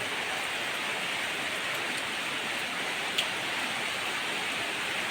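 Heavy rain under an orange rainfall warning in Zamboanga City hisses continuously at moderate loudness, a dense even wash of falling drops with no voices.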